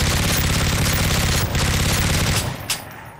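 Rapid automatic gunfire from a gun in a Siren Head video game, loud and continuous for most of the clip before tapering off.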